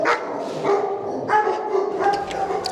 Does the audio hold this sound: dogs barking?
yes